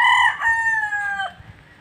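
A gamecock crows once on a fighting-cock farm. It is a loud, close cock-a-doodle-doo lasting over a second and trailing off, with faint background noise after.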